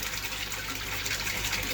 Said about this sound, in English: drain some of the water out, Dotty,